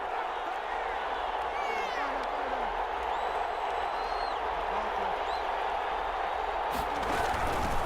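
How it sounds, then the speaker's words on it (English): Stadium crowd at an American football wildcard game, a steady broad roar of fans getting louder ahead of a big third down, with a commentator talking over it and a whistle-like tone rising briefly. "The crowd getting into it as we come up on a big 3rd down."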